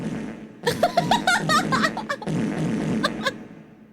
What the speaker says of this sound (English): it makes a continuous wet fart sound